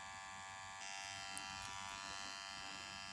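A powder brow permanent makeup machine hums with a steady high electric buzz that rises slightly in tone as it runs on, close and continuous with no talking.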